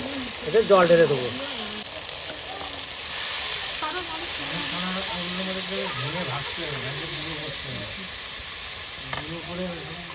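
Duck meat frying in oil in a pan gives off a steady, close sizzle and hiss, with occasional stirring, while someone talks over it.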